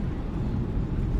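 Low, steady roar of airliner reverse thrust during landing rollout in a flight simulator game, a dense rumble with no talk and no clear change over its short length.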